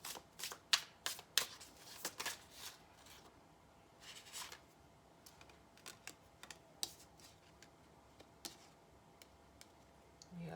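Tarot cards are shuffled in quick, crisp riffles and taps at close range, quiet and alone, coming in bursts separated by brief pauses.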